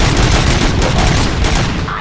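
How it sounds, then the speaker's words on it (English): Rapid gunfire erupts in the video game RoboCop: Rogue City, a loud, dense volley of overlapping shots filling the moment with no pause. "Gunshots? What's going on?"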